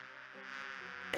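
Bees in the game Discworld 2 buzzing in a steady droning hum, close and level, briefly cut by a sharp click at the very end.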